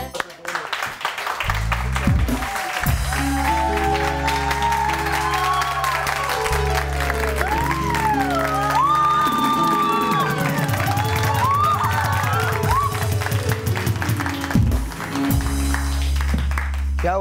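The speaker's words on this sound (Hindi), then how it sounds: "क्या हुआ जो तालियां बजा रहे" Studio audience on a morning TV show bursting into sustained applause and cheering, dense clapping with whoops, while music plays underneath throughout.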